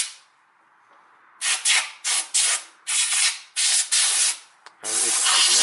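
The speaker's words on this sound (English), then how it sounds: "And there is this compressed air." Short bursts of compressed air hiss loudly in a broken rhythm of about seven blasts, cleaning an automatic transmission filter from a Toyota Corolla, with brief quiet gaps between blasts and a longer final burst.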